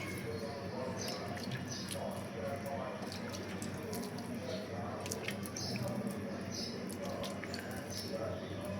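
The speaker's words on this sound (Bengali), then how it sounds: "এখানে গোলাপ জল দিয়ে দুধটা রেডি করে রেখেছি। দুধটা এইভাবে" Rose-water-flavoured milk poured over a layer of polao rice, a soft, steady liquid trickle and splash that runs continuously at low level with faint clicks on top.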